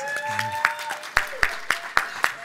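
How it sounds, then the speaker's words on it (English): Scattered claps from a small group of employees at a VR storytelling expo talk, a handful of sharp separate hand claps standing out against a steady background hum and a faint low voice. "So all my employees clapping, so thank you."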